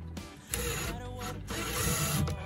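A power drill drives a screw into the corner of wooden chicken coop siding: a close, whirring motor that starts, briefly pauses, then runs on.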